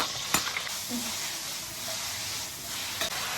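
Shredded chicken hits a hot wok with scallion, ginger, garlic and dried chili, giving a loud, continuous close sizzle and hiss, with a couple of brief utensil clacks.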